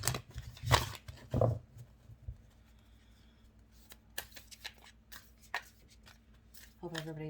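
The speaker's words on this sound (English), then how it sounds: "I just want to make sure these cards are shuffled up really good." Tarot cards being shuffled, with a few loud riffling bursts at the start and then softer card rustles and taps, mixed with a person speaking.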